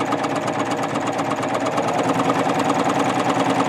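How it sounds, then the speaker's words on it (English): A Babylock Ovation serger stitches through quilting fabric with a quilt bar attached, running as a fast, steady mechanical chatter that stays loud and close throughout. "I'm going to start serging, and again I'm using this quilt bar"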